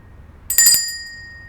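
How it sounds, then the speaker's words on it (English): A small hand bell signals the start of a rapid-fire question round at a live summit event, giving one bright, ringing strike that decays slowly into quiet. "I've got a bell, so you can hear the bell, right?"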